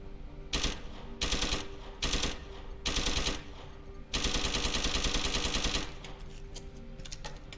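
Automatic gunfire in Deus Ex: Human Revolution comes in loud rapid bursts of about a second each, then a longer sustained stream, close and dominant with brief gaps between volleys.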